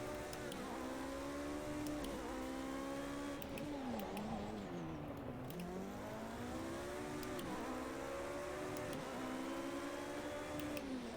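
Race car engine in Project Cars 2 driving continuously, with a loud, close, steady whine that rises and falls through repeated gear changes.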